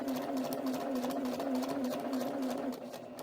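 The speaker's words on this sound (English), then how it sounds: "We've now sewn a curve and everybody's okay." Sewing machine stitches a curve at a steady, rapid hum with even mechanical clatter, close and continuous, easing slightly in the final moments.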